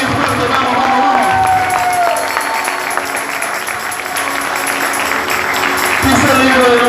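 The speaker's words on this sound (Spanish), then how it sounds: "A ver, dale un aplauso, papá. Dáselo bien fuerte, vamos, vamos, vamos." Church congregation applauds loudly and steadily, with crowd noise and a voice urging them on over the clapping.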